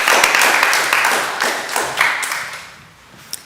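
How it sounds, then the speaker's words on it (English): Audience applause at a hackathon winner announcement, a dense wash of many hands clapping that fades out over a few seconds, leaving a quiet room with a last stray clap. "So, everybody, please, a round of applause."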